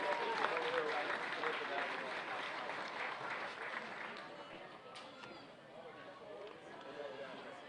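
An audience at an all-star softball game applauding for sponsors, a broad patter of many hands clapping that gradually thins and fades, with crowd chatter underneath.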